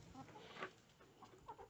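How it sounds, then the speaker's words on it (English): Hens and roosters cluck softly inside a backyard coop, a few short scattered clucks, faint and close with no talking. "There's three roosters in there and eight hens."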